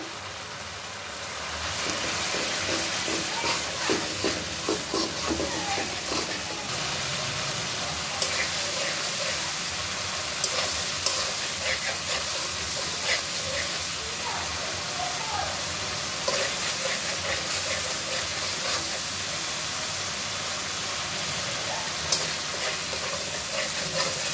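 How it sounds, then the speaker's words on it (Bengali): Spices cook with green chillies, garlic paste and salt in a hot pan, making a continuous loud sizzle with scattered crackles and occasional stirring clatter for over twenty seconds. "দেখো মশলাটা সুন্দর করে কষিয়ে নিলাম।"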